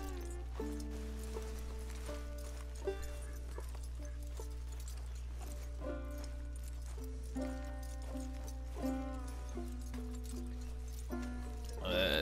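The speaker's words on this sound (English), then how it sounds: "I can't run with him, so I gotta walk with the horse." A horse's hooves clop at a walking pace in Red Dead Redemption 2, soft and steady beneath looping game music.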